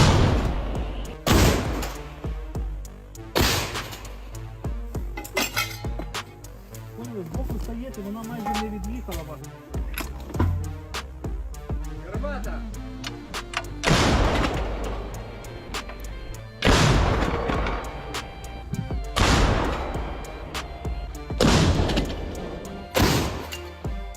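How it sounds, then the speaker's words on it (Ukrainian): Heavy booming blasts ring out repeatedly at irregular intervals, loud and close, each followed by rumbling echoes and clatter, with brief voices in between. "Гармата! Постріл!"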